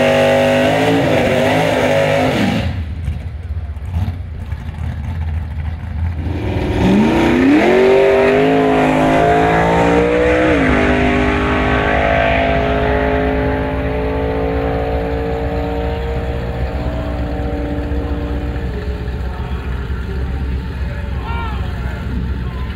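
A race car engine driving on a track, loud and close, revving up through rising gear pulls, dropping briefly between shifts, then holding a strong steady drone under a voice talking.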